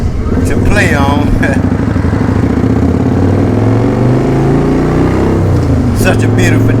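Motorcycle riding on a Houston, Texas freeway, its engine droning steadily and loud throughout with rising and falling pitch as it accelerates, while someone talks over it.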